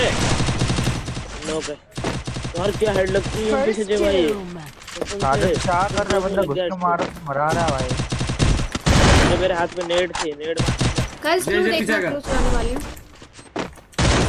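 Rapid bursts of gunfire in a video game shooter, loud and close, firing in repeated volleys with short gaps, under excited shouting from a player.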